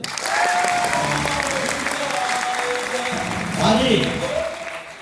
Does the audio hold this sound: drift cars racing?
no